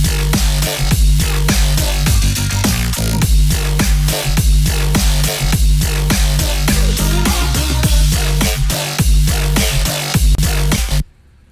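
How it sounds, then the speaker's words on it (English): A track reaches its second drop: loud electronic dance music with a pounding, evenly pulsing bass-heavy beat and bright synth layers, ending suddenly. "here, the second drop, the more exciting of the two drops"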